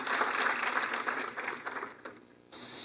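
Audience at a geographic information systems panel in Mexico claps for the moderator, a steady round of applause that thins briefly before swelling again near the end.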